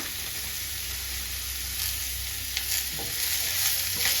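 Coconut powder and spices stir-fried in a pan for a chicken curry, giving a steady hiss of sizzling with a few soft scraping stirs toward the end, no voices.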